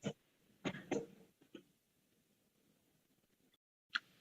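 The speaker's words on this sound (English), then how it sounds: "You must get some medicine for that cough." A person coughs several times in short, separate bursts, a couple close together and then a last one after a pause, quiet and close.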